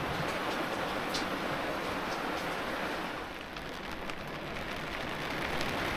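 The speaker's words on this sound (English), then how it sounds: "The rain didn't last long" Steady rain falls around a moored boat at an anchorage, a constant broadband patter that stays even and close throughout with no voices.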